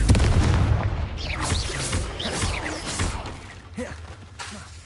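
A Confringo fire blast spell exploding in the video game Hogwarts Legacy: a loud booming burst with crackling, whooshing debris that fades out over several seconds.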